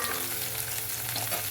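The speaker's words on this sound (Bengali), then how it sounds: "মাছটাকে প্রথমে ভেজে নিচ্ছি" Fish fries in a hot pan, a dense, constant sizzle with bubbling oil close up, continuous and unbroken with no one talking.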